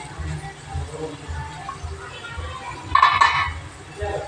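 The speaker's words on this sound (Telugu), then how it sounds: "ఇప్పుడు కొంచెం మూత తీసుకొని చూద్దాం అయిపోయిందో లేదో" A metal lid clinks against a cooking pot of simmering stuffed eggplant masala curry, one bright clatter in the middle under quiet kitchen sounds and a voice speaking.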